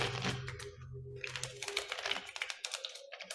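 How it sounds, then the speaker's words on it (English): At an open mic magic show, a magician shuffles a deck of playing cards, making quiet, crisp riffling and flicking bursts that quicken into a rapid patter after a low hum. "focus only on positive thoughts in your mind while I shuffle the cards"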